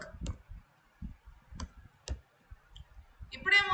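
Code is typed on a computer keyboard: a few sharp key clicks land in quick bursts under a voice as he talks, with a short tonal beep near the end.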